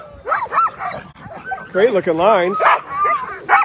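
Sled dogs yipping and whining at the start of a 150-mile Alaskan husky race near Willow, excited dog cries mixed closely with someone talking over them.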